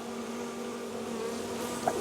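A swarm of honeybees buzzes after being shaken from a branch, giving a faint, steady drone close by with a few individual bees whirring past near the end.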